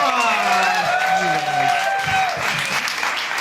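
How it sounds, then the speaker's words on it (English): Audience applause at a live comedy and improv show, a steady round of clapping with some cheering that carries through the whole stretch, mixed with a voice over a PA at the start. "Can we give a round of applause for Clay?"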